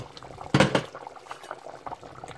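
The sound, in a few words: kreingéssi sauce boiling in a covered pot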